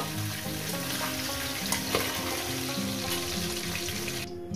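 Fish heads frying in oil sizzle steadily in a pan as they are lifted out, with a faint tonal hum underneath. The sizzle drops away abruptly near the end.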